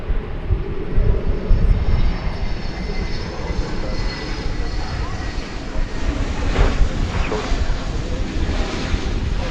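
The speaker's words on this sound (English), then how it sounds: "That was flight 1562 and Airbus A321neo." An American Airlines Airbus A321neo on a flight from Miami lands at DFW Airport in gusty wind, its jet engines a loud, sustained roar mixed with wind buffeting the microphone, swelling slightly near the end.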